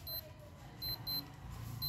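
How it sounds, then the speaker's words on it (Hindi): Alarm of a Taksun TS-613A-2 smartwatch: faint, thin high beeps repeat in short pairs, sounding three or four times over a low indoor background hum. "बहुत स्वीट अलार्म है"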